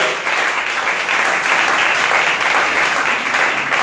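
A church congregation claps and applauds throughout, a dense, steady wash of many hands that holds at an even, fairly loud level with no pauses.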